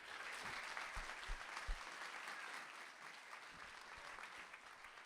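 A church congregation at a Sunday celebration applauds, a soft, distant wash of many hands clapping steadily for several seconds with a few louder low thumps early on.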